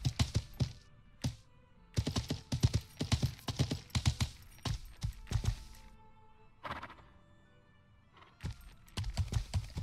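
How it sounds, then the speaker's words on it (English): Horse hooves clip-clop in the medieval game Life is Feudal: Your Own, a run of close, crisp hoofbeats in bursts with brief pauses, broken by a longer lull. "I'm gonna go on my horse again."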